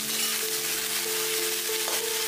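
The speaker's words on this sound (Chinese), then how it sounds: "锅里面来一块猪油，下姜蒜米爆香，再下豆芽蒜苗配菜，" Bean sprouts and garlic sprouts stir-fried in lard with ginger and garlic in a wok give a steady, close, hissing sizzle with a light clink of the spatula, without talk.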